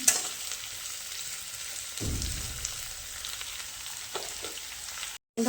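Chilli chicken mixture frying in a pan in a village kitchen: continuous close sizzle with a couple of louder stirring scrapes and a brief gap near the end, no voices.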